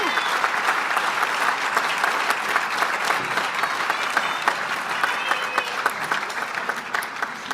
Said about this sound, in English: let's applaud them as they come on up